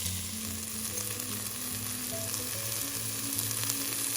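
Onions sauté in garlic oil with chopped dried chillies, a steady close sizzle and crackle of frying with a low hum beneath, no voices.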